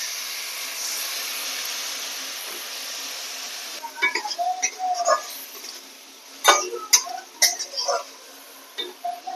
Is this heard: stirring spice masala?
yes